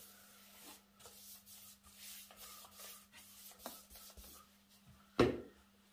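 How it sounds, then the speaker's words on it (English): A brush works Fiddy's wax across a reclaimed timber spiral end table, giving a steady soft scratchy rubbing in repeated strokes, close and alone, with one louder knock near the end. "work it into your Fiddy's wax, brush it on a section."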